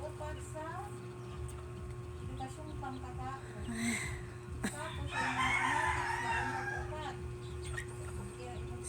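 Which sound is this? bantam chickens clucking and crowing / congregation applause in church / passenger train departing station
bantam chickens clucking and crowing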